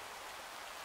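Light rain falls outdoors during a walk in Taunton, making a soft, steady hiss with no voices, lasting less than a second.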